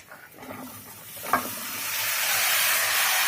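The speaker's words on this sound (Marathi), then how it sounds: "चांगला हलवून घेऊया।" Vegetable pulao with peas, cauliflower, carrots and shahi garam masala is stirred in a hot pan: a few scraping stirs and one sharp knock, then a steady hiss and sizzle that swells and holds.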